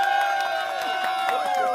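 A camping talk show crowd cheers, a sustained shout with scattered claps heard at moderate distance.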